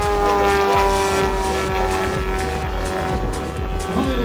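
A model airplane's propeller engine at a small-aircraft air show in Lesce in 2013 gives a sustained, tonal buzzing whine that shifts slightly in pitch as it flies, over open-air background noise.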